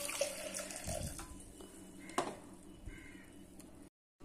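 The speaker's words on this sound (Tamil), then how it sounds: "இப்போ இது முழுகிற அளவுக்கு தண்ணி சேர்த்துக்கலாம்." Water poured into a pot of toor dal for sambar, a gentle running splash that trails off into quiet, fairly faint, with no talk.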